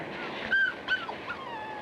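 Puppies in a pet shop window whimper with a few thin, high yips and whines, several short cries in a row, soft and a little distant.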